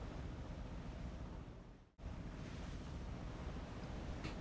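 Roaring sea surf in the visual novel game Umineko no Naku Koro ni, a broad continuous wash of waves and wind that briefly dips and cuts out before resuming at full strength; no voices.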